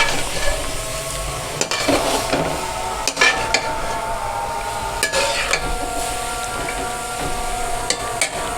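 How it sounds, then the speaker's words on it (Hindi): Boiled chickpeas are stirred in a pan with a spoon, giving a continuous wet scraping and soft clatter with a few sharper knocks against the metal, close up and with no talking. "अब हम इसमें चने ऐड करेंगे। इसको हम अच्छे तरीके से हिलाएंगे।"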